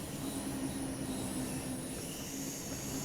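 A Class 401 ICE high-speed train in Train Sim World 6 at Frankfurt Hbf gives a steady, even hum and rolling drone with faint high whine, constant and moderately quiet throughout.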